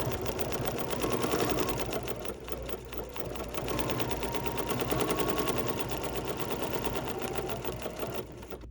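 A sewing machine stitches quilt fabric in short runs, its fast, steady needle chatter speeding and easing over several seconds, up close with no talking.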